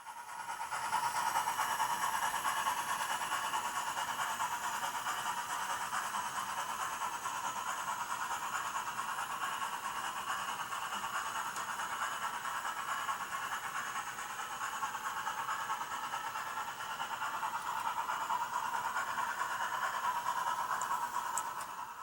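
A model train locomotive hauls seven Athearn Blue Box heavyweight coaches and a kit-bashed auxiliary tender up a 4% grade, giving a continuous, even whirring and rolling hum that holds steady throughout with no voices.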